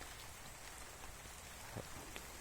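Steady rain patters continuously on surfaces, a dense even hiss with occasional louder drops, no voices.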